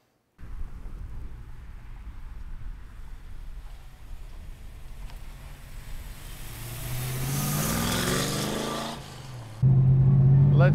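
A 1968 Ford Mustang Fastback being driven: a low, steady engine rumble swells into a louder rising rev, then settles into a strong, sustained note near the end.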